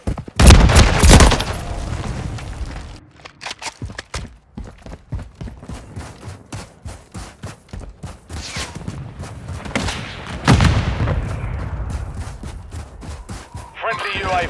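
Grenade blast and rattling gunfire in the Call of Duty: Modern Warfare III video game, with a loud burst at the start, steady rapid shots through the middle and another heavy blast near the end, under in-game voice callouts.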